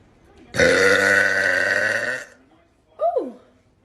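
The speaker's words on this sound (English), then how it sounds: "That sparkling water is strawberry flavored and is making my burps taste like strawberries." A person burps after drinking strawberry-flavored sparkling water: one long, loud, voiced belch lasting nearly two seconds, followed after a pause by a short vocal 'ooh'-like sound.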